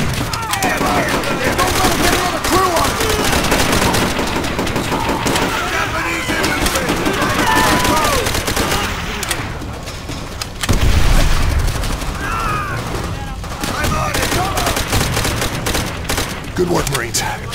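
Heavy machine gun fire from the Call of Duty: World at War Makin Island raid, with sustained rapid bursts, booming explosions and other weapons in a loud, dense battle mix, plus shouted voices over the gunfire.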